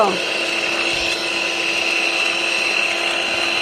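Butter and powdered sugar are whirred together for a bread cake batter by a steady, droning electric mixer close by, running evenly without pause.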